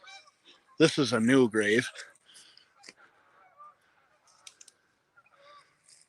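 A single goose honks loudly in a rapid run of calls in a cemetery, with someone talking quietly before and after and faint bird sounds in between.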